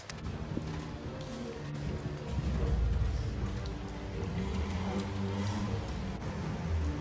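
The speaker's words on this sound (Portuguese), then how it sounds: "A chuva ainda não parou." Steady storm rain hisses across the whole clip, a dense wash of falling water with scattered drops, continuous and fairly close.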